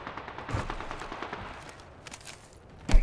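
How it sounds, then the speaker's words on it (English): Gunfire in the shooter game Apex Legends, with several quick, distant-sounding shots spread across the moment and one sharp, louder crack near the end. "Getting shot at."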